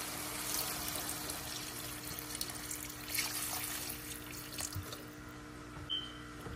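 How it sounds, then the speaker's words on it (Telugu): Water pours into a cooking pot for mutton bone soup, a soft, continuous splashing trickle heard close but quiet throughout. "ఇప్పుడు నీళ్ళు వేస్తున్నాను"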